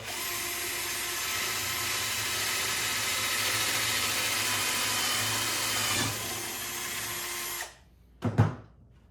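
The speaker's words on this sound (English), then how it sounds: "second attempt with the drill." A Harbor Freight cordless drill whirs steadily for several seconds while drilling holes, loud and close, then stops, followed by a couple of short clunks.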